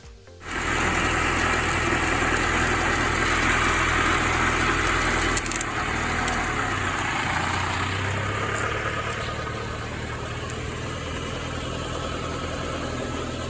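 A car engine idles steadily and close by in a garage while a smoke machine for leak diagnosis draws power, a loud continuous low hum with a faint shift partway through.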